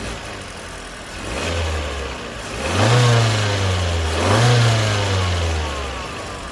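Forthing U-Tour minivan with a 1.5-litre turbocharged Mitsubishi GDI engine and seven-speed dual-clutch gearbox, accelerating: a low engine drone rises in two clear surges of revs, each climbing then easing, heard alone without voices.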